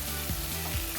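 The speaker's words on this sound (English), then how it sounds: "So yeah, you just want to fry these up." Food frying in a pan, a dense, continuous close sizzle with two soft scraping stirs mixed in, no talking.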